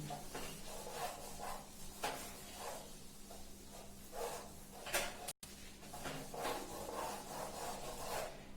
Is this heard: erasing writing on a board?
yes